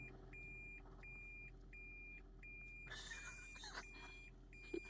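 Steady repeating electronic beeps at an even pace, a car's reversing alarm, with a low engine hum and a brief rustle partway through.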